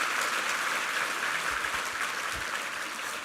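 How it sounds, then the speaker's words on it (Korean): Congregation at a Korean Sunday church service applauds a youth praise choir's debut, a steady, moderately distant patter of many hands clapping that continues evenly for a few seconds. "한번 힘찬 격려 박수 한번 부탁합니다."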